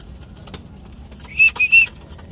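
Racing pigeons in a Philippine loft, including a grizzly bird, give a short run of three soft, close coos in quick succession after a quiet stretch of background noise.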